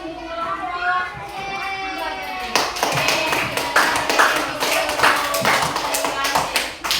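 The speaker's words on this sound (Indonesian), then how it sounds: "Kita tepuk tangan dulu." Children in a Year 5 primary maths class clap their hands together in a quick rhythmic burst, close and lively, after a teacher's voice speaks briefly at the start.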